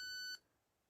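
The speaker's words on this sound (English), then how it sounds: "ask them to hold their payment method securely against the machine until you hear a beep." A SumUp Solo card reader gives a single short, clean electronic beep confirming a contactless payment, close and clear, then falls silent.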